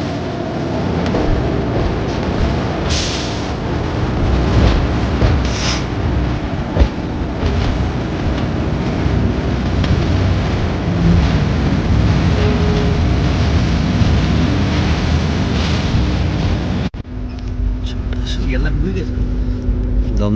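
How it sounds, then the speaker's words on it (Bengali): Heavy rain heard from inside a moving third-class coach of the Padatik Express from New Jalpaiguri to Sealdah, a steady broadband roar mixed with rolling train rumble, continuous and fairly loud, with a brief change near the end. "বৃষ্টি"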